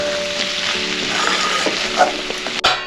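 Potatoes cook in a pan with a continuous sizzle while being stirred, with scraping and shuffling throughout and a sharp knock near the end, with no speech.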